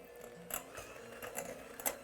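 Keto cinnamon cream cheese cookie dough being beaten with an electric mixer, a low, steady motor whir with soft intermittent bumps as the bowl turns, fairly quiet and close, no speech.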